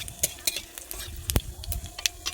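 Dried chilli and panch phoron crackling in hot mustard oil as they are stirred, close and fairly loud, with quick spatula scrapes and a sharp knock against the pan amid the sizzle, no talking.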